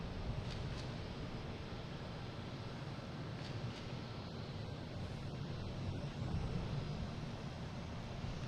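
Airbus A330-900 airliner bound for Milan passing an airport, a steady broadband jet roar filling the clip at moderate loudness with no voices.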